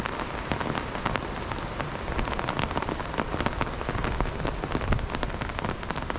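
Steady rain patters densely on trees nearby while camping on the Big Island of Hawaii, a constant hiss with scattered louder drops, no voices.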